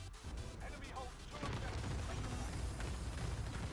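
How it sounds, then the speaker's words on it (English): Explosions and gunfire from the Modern Warfare video game, a continuous dense wash of blasts and shots at moderate level through the whole stretch. "You don't need that many explosions."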